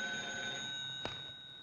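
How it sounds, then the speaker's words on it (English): A cartoon telephone bell rings in a steady, bright tone, faint and continuous, with a brief click partway through. "I'm gonna phone Pickle and set you up"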